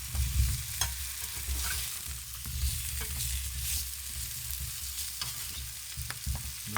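Sausage for gumbo fries in a pan with a continuous, close sizzle and hiss, while occasional soft scrapes and knocks come from stirring. No one speaks.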